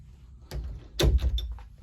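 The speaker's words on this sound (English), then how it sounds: "Now let's shut this door." An interior house door is shut with a solid thunk, followed by a short rattle as it settles in its frame. The sounds are close and fairly loud against a quiet room.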